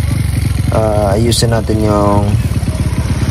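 A motorcycle engine idles with a steady, pulsing putter through the whole stretch, close and loud, while someone talks over it.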